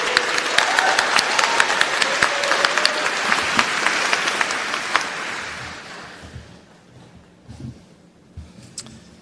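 Applause for students at a university undergraduate commencement ceremony, a full burst of many hands clapping with a few sharp claps standing out, tapering away into quieter scattered claps near the end.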